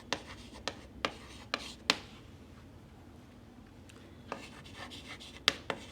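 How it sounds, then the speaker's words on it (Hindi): Chalk taps and scratches on a board in short, sharp strokes, clustered bursts separated by quiet pauses, close and fairly faint in a classroom. "ऐसे लिखो जैसे मैं लिख रही हूँ।"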